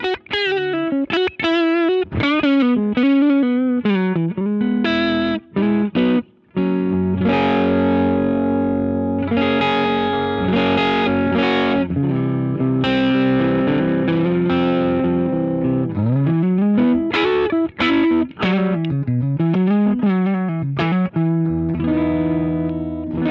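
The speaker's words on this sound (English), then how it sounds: "the germaniumness really makes it a warm sounding overdrive" Electric guitar through a germanium overdrive pedal giving a warm, saturated drive tone, played loud and close as ringing chords and sliding melodic lines with sustained notes and one brief dropout.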